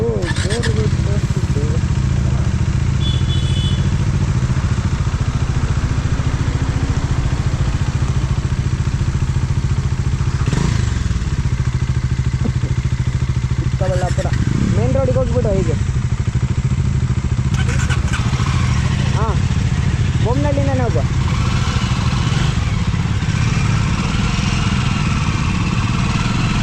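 A broken-down motorcycle's engine runs roughly while being towed, a steady low rumble with occasional clatter and passing revs, heard close under ongoing conversation and road wind.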